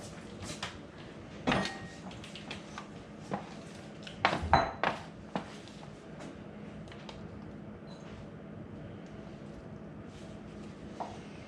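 Ceramic bowls and dishes are handled in a home kitchen, giving a few scattered clinks and knocks, two louder clattering bursts in the middle, and faint background room noise with no talk.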